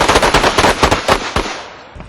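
Rapid bursts of gunfire at a training course for a shooting instructor's team, sharp cracks firing in quick uneven succession, loud and close, with echoes trailing off as the shots thin out.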